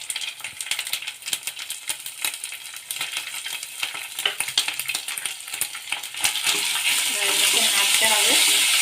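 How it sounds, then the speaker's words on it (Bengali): Chopped ginger spatters and sizzles in hot oil in a pan, with stirring clatter and crackles throughout that swell into a loud, steady frying hiss near the end. "আদাটা দিয়েছি, আদাটা ছিটকাচ্ছে"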